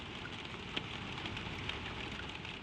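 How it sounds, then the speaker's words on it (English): Soft, steady rain patters on a stable roof in a dense, even hiss, with an occasional heavier drop standing out. "the wet world goes on without you, drumming on the roof and running in the gutter"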